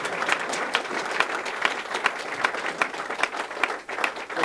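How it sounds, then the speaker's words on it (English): Audience applause fills a political campaign event in 2008, a dense, steady clapping from a crowd that carries on throughout with only a brief dip near the end. "heck yeah, you're going to clap"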